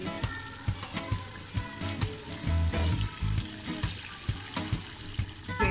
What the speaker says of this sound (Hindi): मैं इसमें तकरीबन 2 ग्लास पानी ऐड करूँगी।